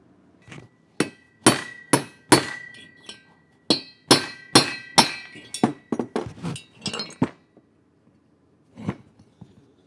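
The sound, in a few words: valve seat breaking as it is knocked out of an Aermacchi cylinder head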